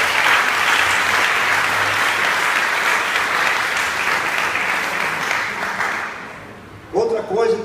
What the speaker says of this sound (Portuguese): Queria uma salva de palmas para Jesus.